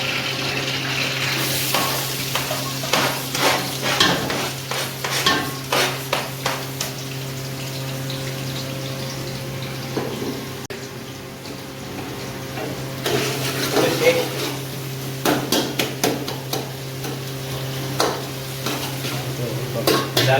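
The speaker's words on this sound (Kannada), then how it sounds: "ಇದೆಲ್ಲ ಡೀಪ್ ಬ್ರೌನ್ ಫ್ರೈ ಆಗ್ಬೇಕು" Onions frying in oil with mustard seeds, a steady sizzle under repeated scraping and stirring of a spoon against the pan, with people talking nearby.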